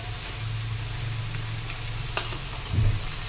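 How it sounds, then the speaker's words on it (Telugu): Ginger garlic paste frying in a pan for a chicken curry, a steady close sizzle with a low hum underneath and a brief stir clatter near the end. "అల్లం వెల్లుల్లి పేస్ట్ బాగా వేగిందండి"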